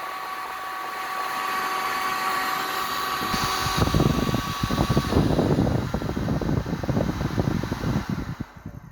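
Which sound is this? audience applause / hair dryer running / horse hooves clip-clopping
hair dryer running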